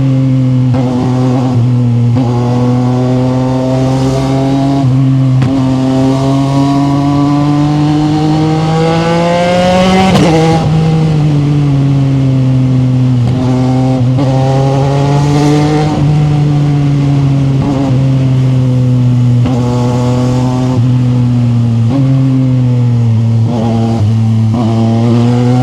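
A CFMOTO 675NK motorcycle engine revs hard at high RPM, a loud, steady, close-up howl whose pitch swings up and down repeatedly with rapid throttle blips, running continuously with no talk.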